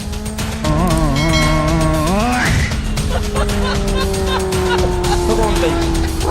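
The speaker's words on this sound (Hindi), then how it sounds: "जैसे ही बगल से हाई स्पीड बाइक निकलती है" A high-speed motorbike passing close by, its engine whine rising and then dropping sharply as it rushes past, followed by a steady engine drone, with a voice talking over it.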